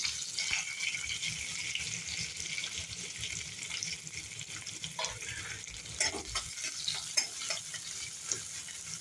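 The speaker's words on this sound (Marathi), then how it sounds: "कांदा चांगला लालसर होईपर्यंत परतून घ्यायचा आपल्याला" Chopped onion sautéing in a pan for Maharashtrian baingan bharta, a steady close sizzle throughout with occasional stirring scrapes and faint clinks, no voices.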